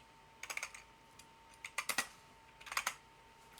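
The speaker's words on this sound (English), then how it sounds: "My keyboard doesn't want to fucking work today." Computer keyboard being typed on in short bursts of quick clicky keystrokes, three clusters separated by quiet gaps, close to the microphone with no talking.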